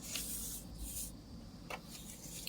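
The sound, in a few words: spraying paper for tag making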